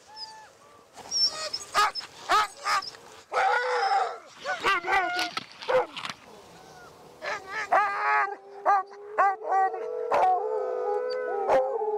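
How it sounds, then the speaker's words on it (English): A sled dog team on a polar ice expedition barks, yips, whimpers and howls, a chorus of several dogs up close with a long rising howl near the end. "we get to feed the dog teams"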